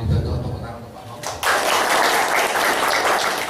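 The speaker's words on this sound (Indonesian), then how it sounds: "Tepuk tangan untuk kita semuanya." A PSSI C-licence football coaching course ceremony in Solo, where a man's speech gives way to a sudden burst of full audience applause that carries on steadily to the end.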